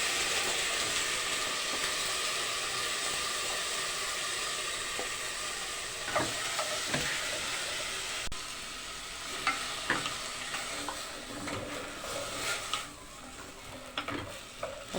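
Carrots and zucchini stir-fried together in a home kitchen pan give a steady, moderate sizzle, with scraping and stirring clatters breaking in more often during the second half.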